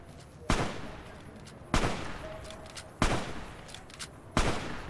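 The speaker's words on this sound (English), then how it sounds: "What are you shooting at?" Gunfire in the video game Fallout: New Vegas: four loud, sharp single shots spaced roughly a second apart, each with a short echoing tail over a low background ambience.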